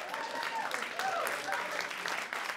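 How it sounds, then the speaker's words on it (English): A comedy club audience applauds, a dense burst of clapping that stays steady and fairly loud for a couple of seconds, with some voices mixed in. "I'm glad you clapped there"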